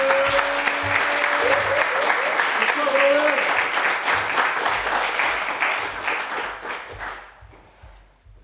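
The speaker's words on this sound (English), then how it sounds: "Can you please give a big round of applause for" Audience at a queer poetry open-mic event applauding a poet, a sustained burst of clapping from a crowd that swells, holds for several seconds and fades out, with a voice briefly heard at the start.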